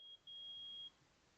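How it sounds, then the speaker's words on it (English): Electronic metal detector beep from an Ace Attorney video game, a short tone followed by a longer steady high-pitched beep, clean and alone. "It's beeping! The metal detector's found something!"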